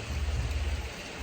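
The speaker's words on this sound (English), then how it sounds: "it just started downpouring out of nowhere" A heavy rain downpour pours outside a Paris apartment, a dense, steady hiss with a low rumbling undertone that stays constant and fairly loud throughout.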